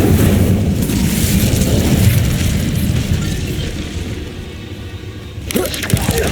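A fire spell cast in the video game Hogwarts Legacy gives a loud, dense whooshing burst of flame that roars continuously and then fades, with a sharp crackling flare near the end; no one speaks.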